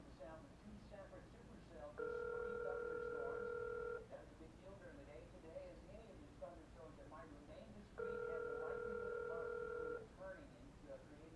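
A telephone rings in two long electronic bursts, each about two seconds, separated by a pause, with a steady background hum and faint room noise between rings, at home during a tornado warning in St. Louis, Missouri.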